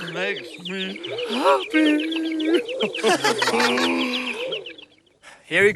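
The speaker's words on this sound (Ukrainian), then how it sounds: "Я завжди любив слухати спів пташок." Chirping and clucking bird or fowl calls in a cartoon, repeated close, bright calls in quick succession, mixed with voices and ending in a short burst.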